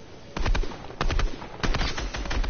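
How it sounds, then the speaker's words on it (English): Gunfire in the video game Fortnite: three bursts of rapid automatic shots, each lasting about half a second, loud and close over a steady game background. "Yeah, I'm shooting him out of here."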